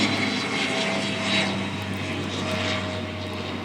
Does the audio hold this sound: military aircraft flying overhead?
yes